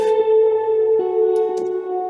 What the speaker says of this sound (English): a very roomy effects. I call it sparkling. A lot of reverb, a little bit of delay, chorus.